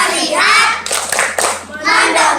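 A group, likely children in a classroom, claps hands together in a loud, fast burst of overlapping claps, with a short pause partway through and a final round of clapping near the end.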